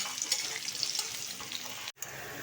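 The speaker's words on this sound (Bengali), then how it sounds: "পেঁয়াজটা আমি লাল লাল করে একটু ভেজে নেবো" Onion frying in hot oil gives a steady, close hiss of sizzling with a brief cut near the end, no talking.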